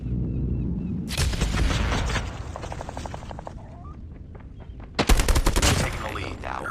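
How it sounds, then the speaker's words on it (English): Strafe run gunfire in the Call of Duty Mobile video game: loud bursts of rapid automatic fire and booming impacts, one cluster early and a heavier volley near the end, with game voice chatter mixed in. "We've called in a strafe run."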